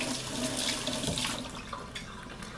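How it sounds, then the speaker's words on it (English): A peeled sweet potato rinsed under a running kitchen faucet, with a steady close splashing hiss of water that varies slightly as it is turned in the stream. "I'm going to rinse it one more time."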